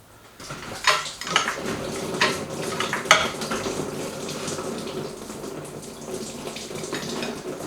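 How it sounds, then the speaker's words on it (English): Coolant drains from a car's heater core hose lines and splashes into a pan underneath, a steady close trickling and pattering with a few brighter splashes early on, continuing alone without speech. "All of my heater core hose lines are just draining right now, but I've got a pan under there thankfully"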